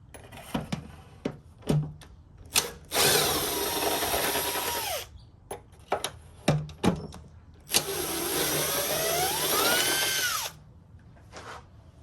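Cordless power drill unscrewing screws from an Aiper Scuba S1 pool robot during a battery replacement, with short whirring bursts and two longer sustained runs that rise in pitch, separated by quiet handling clicks.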